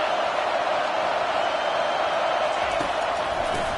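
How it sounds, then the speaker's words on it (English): Stadium crowd at a college football video game, NIU versus NC State, a steady, continuous roar of many voices at constant loudness, with no distinct cheers or pauses. "This crowd trying to make life miserable for this offense."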